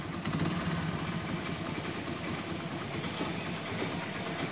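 A Hero motorcycle engine with a misfiring problem that stalls when revved idles close by, a steady continuous rumble with a fine knocking texture and no talk.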